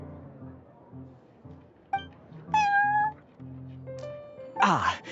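Prince the cat in Genshin Impact meowing, several clear meows over soft game background sounds and a voice, ending with a brighter chiming clink.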